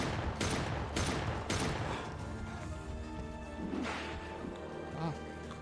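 Gunfire in the survival horror game Daymare 1998, heavy 50 cal rounds: a quick burst of three loud shots at the start, then quieter impacts and thuds with a lingering ring.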